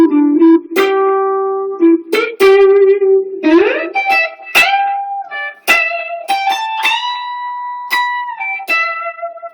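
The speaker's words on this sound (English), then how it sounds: "So a typical lick that might put all these kind of bends together." Electric guitar lick mixing whole-tone, semitone, tone-and-a-half and microtonal quarter-tone bends, with a string of sharply picked notes that slide and bend upward between pitches, played clean and loud with brief gaps and no talking.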